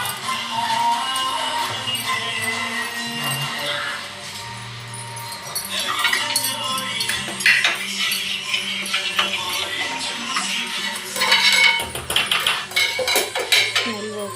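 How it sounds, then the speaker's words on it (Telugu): Coriander seeds being pounded coarsely for tomato rasam, giving a steady run of clattering metallic knocks and scrapes that carry on across the whole stretch, close and fairly loud. "మామూలుగా దంచుకోండి."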